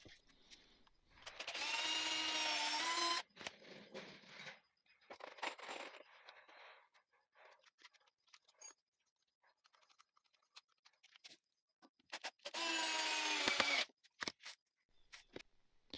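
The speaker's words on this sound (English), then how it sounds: "Then get to drilling." A power drill drives screws into wood in two loud bursts, near and alone, with quieter scraping and handling noises between them.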